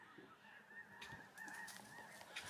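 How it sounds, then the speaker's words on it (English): A flock of geese honks overhead in early spring above a rural homestead, giving faint, distant, overlapping calls against quiet outdoor background. "a whole bunch of geese think springtime's coming"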